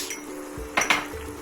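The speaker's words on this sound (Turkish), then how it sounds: "Şimdi karıştır." A spoon stirs turmeric rice pilaf in a pot, giving two quick metallic clinks close together against a soft background hum.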